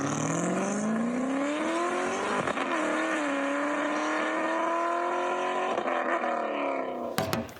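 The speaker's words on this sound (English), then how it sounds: "So I'll try to click it really quick just to see if it's gonna turn that over" A BMW with a swapped 2JZ engine cranks on its starter, giving a loud, steady, whirring drone with a slightly rising pitch for about seven seconds before it cuts off abruptly.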